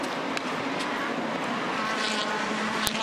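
Aussie Racing Cars at the Gold Coast race track streaming past one after another, a sustained high engine whine with sharp passing surges, loud and continuous with no talk.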